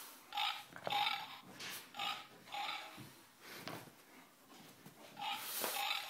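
A dog growls and snorts in short, repeated bursts while tugging at a toy pig during play, the growls near and fairly loud with brief pauses between them.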